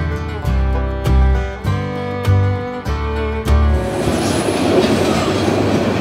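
A Rangpur Express train passes through Joydebpur railway station, loud and close. A horn-like tonal drone is broken by rhythmic wheel clacks, then a broad rushing roar and wheel noise as it speeds by, with no talking.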